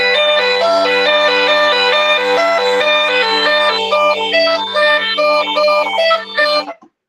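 Slovak bagpipe (gajdy) melody played with the third hole opened, a bright, full, continuous reedy tune over a steady drone, loud and close, with no talking, ending abruptly.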